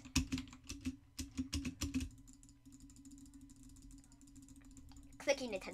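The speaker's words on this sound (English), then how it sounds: "Clicking intensifies." Rapid computer keyboard typing and mouse clicks during a Roblox BedWars gaming session, loud bursts of keystrokes at first that settle into quieter steady clicking, with a brief voice near the end.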